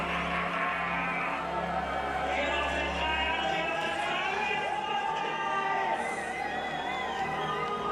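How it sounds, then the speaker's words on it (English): Crowd cheering at the Red Bull PlayStreets 2023 ski contest in Bad Gastein, a continuous roar of voices and whoops with an announcer talking over it. "We waited 4 years to have this contest back in front of a roaring crowd like this."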